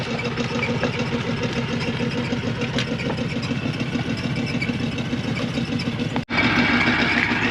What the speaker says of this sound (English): You wouldn't think that direct feed compressor would be enough to feed 4 lines.